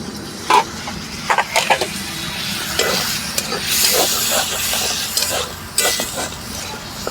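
A little water goes into a hot pan of dry ground spices for a snack, hissing and sizzling steadily while a spoon scrapes and stirs in short, close clatters.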